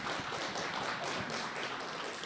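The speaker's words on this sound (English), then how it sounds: "let's have a round of applause for our 3 finalists" Applause for three hackathon finalists at an AI fair, a short burst of clapping from a modest crowd, moderately loud and fairly close, with no talking.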